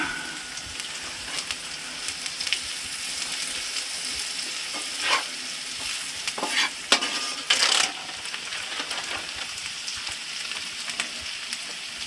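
Bacon sizzles steadily in a pan at a winter hot-tent campsite, a constant close crackle and spit with a few louder pops and scrapes partway through, no one speaking.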